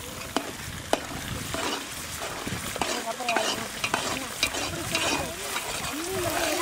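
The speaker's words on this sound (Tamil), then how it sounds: "கொஞ்சம் பச்சை வாசம் போகிற அளவுக்கு நல்லா வதக்கணும்." Onions and spices sauté in a pan for chicken biryani, giving a steady loud sizzle broken by scraping stirs and spatula knocks throughout.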